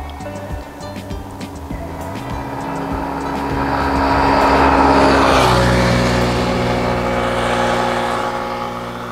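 A 250 cc motorcycle runs at wide open throttle down the longest straight of the Belitung TT race track, its engine note rising into a loud sustained roar with heavy wind rush, then easing slightly.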